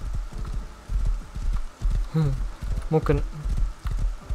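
Horse hooves clip-clopping in the video game Rust, a steady run of close thudding steps with a snort or whinny in the middle, under a voice speaking.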